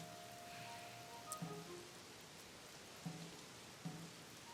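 Soft, distant rain in The Legend of Zelda: Tears of the Kingdom hisses steadily in the background, with a few faint thuds.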